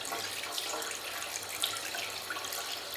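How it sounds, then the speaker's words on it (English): Tap water runs steadily into a sink while acrylic paint brushes are rinsed, a close, even hiss of flowing water with faint splashes and no talking. "we rinse them with water."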